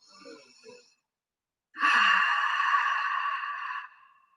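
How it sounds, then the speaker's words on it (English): A slow, airy breath out through the mouth during a morning mindfulness exercise, long and close, following a short soft exhale after a brief silence. "exhale through your mouth"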